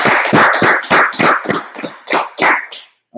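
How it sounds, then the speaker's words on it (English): A group of people claps in a short, rhythmic burst of about ten sharp, close, loud claps, then breaks off into silence. "let's go ahead and clap it up"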